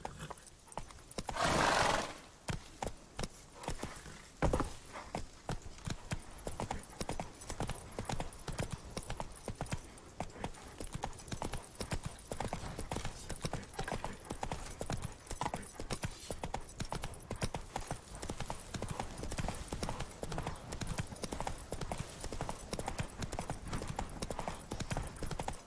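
Roach, Geralt's horse in The Witcher 3, trots with steady, continuous clip-clop hoofbeats over a long stretch, opening with a loud whinny and a few sharper knocks.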